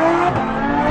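A Lamborghini Huracan in a race against another car, its engine note rising sharply in a short, loud burst of acceleration with layered harmonic whine and no talking.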